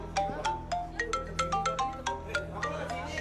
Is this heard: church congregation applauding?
no